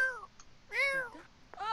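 A Sims 4 game cat meows three times, each a clear close drawn-out call separated by short pauses, with the middle meow the longest.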